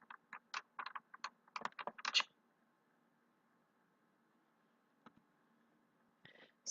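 Quick keystrokes on a computer keyboard tap out a short caption in a close, quiet burst of about two seconds. After a pause come a lone click and a few final taps.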